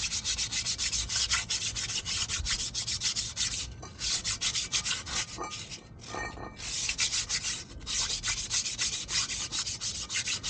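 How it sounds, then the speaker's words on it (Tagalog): A motorcycle brake drum is sanded by hand with sandpaper, a loud close scratchy rubbing in rapid back-and-forth strokes that continues with brief pauses and changes of rhythm. "Tapos ito yung kanyang brake drum, lihain din natin to."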